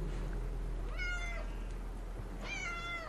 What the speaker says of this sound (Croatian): osluškujem mačke koje zvuče kao da se kolju